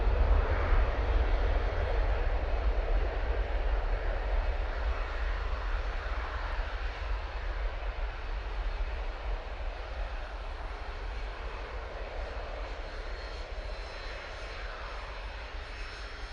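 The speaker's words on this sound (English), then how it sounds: "737 now going off to Kalamata" A TUI Boeing 737 jet departs Manchester Airport bound for Kalamata, its engines a loud, steady broadband roar that holds for the whole stretch and eases off only slightly toward the end.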